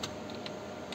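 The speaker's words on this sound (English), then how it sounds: "For example, now I am typing," Faint, sparse key presses on the keypad of an 8086 microprocessor trainer kit in a lab, a few soft clicks spread across a brief moment.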